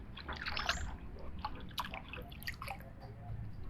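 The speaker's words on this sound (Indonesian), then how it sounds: "Ini Didaduk mau ngambil sedikit air. Bening sekali ya airnya" Clear water drips and trickles as it is scooped up at a Dutch-era power plant site, a steady close-up patter of drops and small splashes with no talking.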